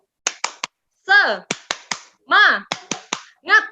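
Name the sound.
rhythmic 'tepuk semangat' clapping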